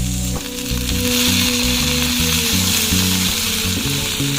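Bitter gourd fries in a pan with a loud, steady sizzle, while rhythmic scraping and clinking from stirring sound close by throughout.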